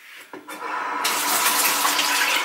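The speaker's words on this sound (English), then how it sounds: "I usually add a bit of cold water so I can not burn my face" Cold water pours from a tap into a mug of black coffee, a brief knock followed by a steady splashing rush that grows fuller and continues to the end.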